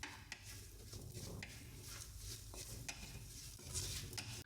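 Spice powder being stirred in a pan for fish curry: soft scraping strokes and light taps of a spoon against the pan over a quiet sizzle, close and faint.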